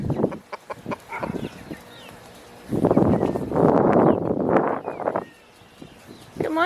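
Farm chickens cluck and murmur close by in scattered bursts, building to a denser, louder stretch of clucking before trailing off.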